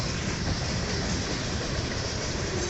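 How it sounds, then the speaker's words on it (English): A small train passes outside Battle Creek, Michigan, heading toward Lansing, its continuous rumble and rail noise steady and loud throughout with no voices. "here comes a little train going outside of Battle Creek"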